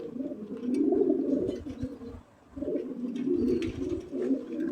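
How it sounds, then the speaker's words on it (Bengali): American Lakha pigeons at a breeding farm coo in low, rolling bursts, two long throaty phrases separated by a short pause, close and clear with no talking. "এটা হলো আমেরিকান লাক্ষা কবুতর"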